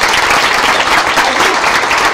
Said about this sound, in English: So big round of applause for Ono.